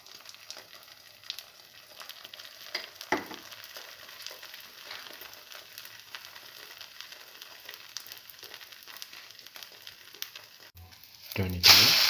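Cinnamon red spinach omelette frying in a pan, a soft steady sizzle running close and low throughout, with a brief louder crackle near the end.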